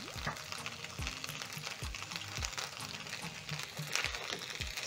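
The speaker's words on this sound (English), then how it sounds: "Stir in the coriander and my sweet chili fries are ready" Coriander is stirred into sweet chili fries, giving soft repeated scraping and stirring strokes over a light sizzle, fairly close and steady.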